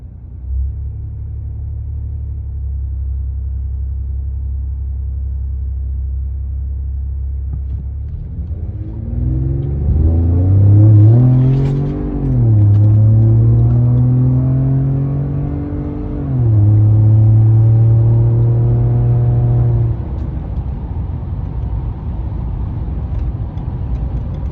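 A Ford F-150 EcoBoost pickup idles with a deep rumble through an aftermarket exhaust, then revs up hard, loud and throaty, holding high revs before settling back.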